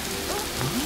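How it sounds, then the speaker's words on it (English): Steady rain falls in the animated children's series Tayo the Little Bus, a soft, continuous patter that stays even and close for under a second, with no voices. "Oh, it's raining?"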